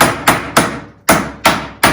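A rawhide hammer strikes a silver bracelet on a steel bracelet mandrel, six sharp, loud blows in an uneven rhythm, each followed by a short ringing decay.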